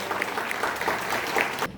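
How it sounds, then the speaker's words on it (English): Applause from an audience at the Polynesian Cultural Center in Hawaii after a hula chant performance, a short burst of dense, continuous clapping that cuts off abruptly. "How about a round of applause for our chanters?"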